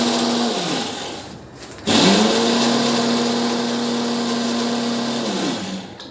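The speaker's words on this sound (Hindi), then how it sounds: "मिक्सी है।" A mixer grinder grinding coriander whirs loudly with a steady motor hum, stops briefly, then starts up again and runs continuously before winding down.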